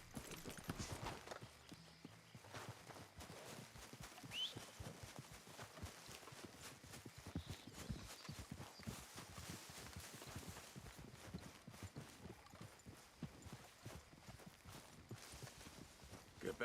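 Rhythmic clip-clop of horse hooves walking at a steady pace across a video game camp area, moderately close and continuous, with faint ambient game sound underneath.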